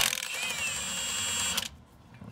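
A ratchet with a chrome socket turning on a Ford F150 front wheel hub, a fast continuous mechanical clicking for about a second and a half, close and loud, then stopping abruptly.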